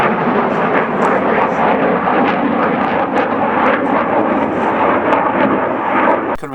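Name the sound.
MiG jet flying past near local airport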